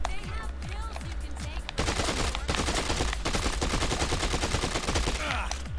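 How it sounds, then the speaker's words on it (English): Rapid automatic fire from the Merc Assault Rifle in Dead Rising 2 on PS3, a sustained dense burst of loud gunshots running through most of the stretch after a brief lighter opening, with game effects mixed in. "I think the Merc Assault Rifle is stronger"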